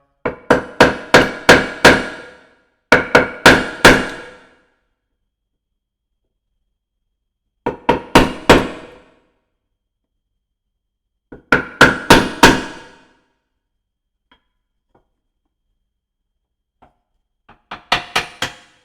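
A small ball peen hammer taps on a wooden guitar neck in a jig, in quick bursts of four to six sharp knocks separated by pauses, close and loud with no talk.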